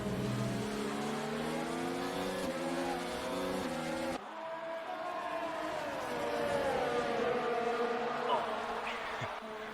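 Race cars roaring through a racing video game at the Hungary circuit: several engines blend into a loud, continuous drone, their pitch rising and falling steadily, with no voices heard over them.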